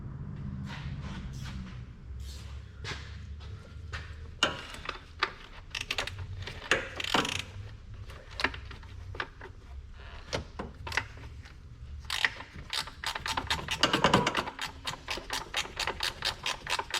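A ratchet loosens the 10mm intake manifold support bolts on a Jeep Cherokee during a valve cover gasket job, giving close, rapid runs of metallic clicks in repeated bursts with short pauses between strokes.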